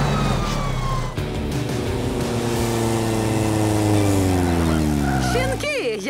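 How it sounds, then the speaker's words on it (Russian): Cartoon fire truck siren wailing in steady rising and falling tones, loud and continuous, with layered music and effects beneath and a brief squeal at the end. "Моя пожарная машина."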